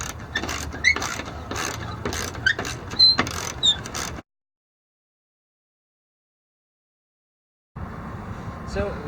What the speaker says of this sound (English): So just use a basic wrench and let's just screw them on in.